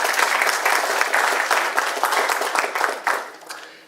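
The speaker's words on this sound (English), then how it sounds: "So please give her a round of applause." Applause from a forum audience, dense sustained clapping at fairly close range that holds steady and then fades out toward the end.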